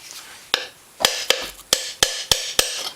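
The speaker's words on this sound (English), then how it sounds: "Tap it with a hammer." A hammer taps a seal driver to press a bearing seal into the rear differential of a Honda Recon 250 ATV, about eight sharp, close metallic hits at an uneven, fairly quick pace, with no talking.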